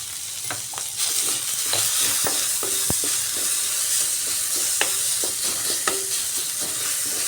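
A spiced filling for stuffed teasel gourd fries in a pan, with a steady sizzle under frequent scraping and clacking stirring strokes, and no voices.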